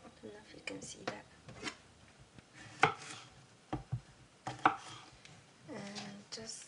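A knife cuts through a zucchini on a cutting board, giving a few sharp, close chops spaced irregularly, with a soft voice talking in the background.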